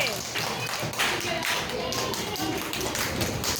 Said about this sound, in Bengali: তাপসের জন্য জোরে একটা হাততালি হবে